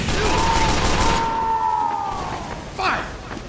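A Team Fortress 2 sentry gun fires rapid bursts amid chaotic multiplayer combat, with dense gunfire up front and loud voices and game effects throughout.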